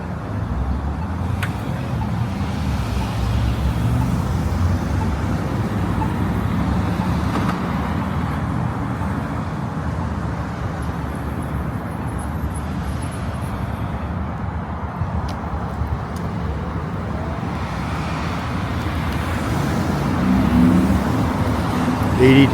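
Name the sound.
road traffic on Bloor Street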